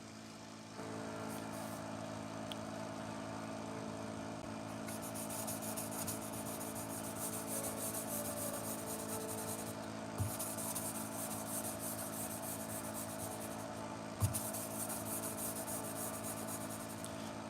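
Pet grooming shears are sharpened on a 1000-grit stone, giving a steady, faint rubbing rasp that runs continuously with a couple of small clicks, and no talking.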